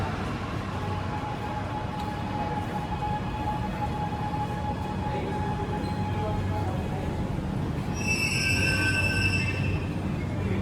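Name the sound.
metro train arriving at station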